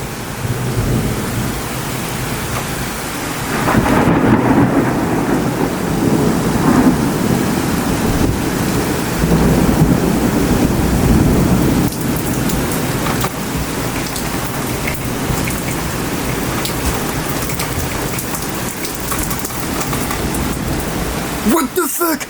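A strong thunderstorm over Bordeaux, with heavy rain pouring steadily and loud thunder rumbling and cracking throughout, close and powerful, with a sharp nearby crash near the end.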